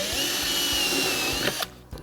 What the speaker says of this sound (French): Donc là, je vais percer les 4